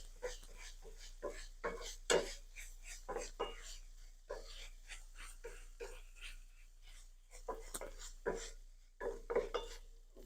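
Beef mixture with beef stock concentrate is stirred in a pan, a spoon scraping and clinking against the metal in irregular close strokes, with soft sizzle underneath and no talk.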